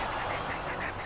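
Cartoon ducks quack in the Slam Dunk Space Jam video game, a brief nasal burst heard alone for about a second.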